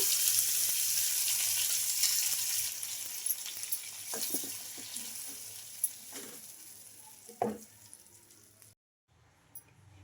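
Loud, steady sizzling as mixie-ground chutney hits a hot oil tempering, with a few clinks and stirring scrapes, fading and cutting off near the end.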